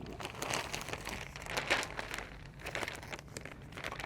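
Plastic sheeting being handled while fitting a ZipWall suspended ceiling plate, giving steady close crinkling and crumpling with a few sharper crackles, no talk.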